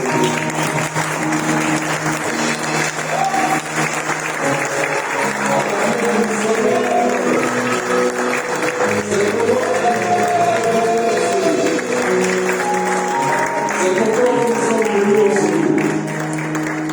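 A church congregation at a Sunday service applauds and cheers in praise of God, sustained clapping and voices with music underneath, loud and steady throughout.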